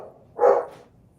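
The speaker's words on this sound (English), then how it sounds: "I can hear the dog better than either one of you." A single dog bark, close and fairly loud, rising sharply and fading within about half a second against a quiet background.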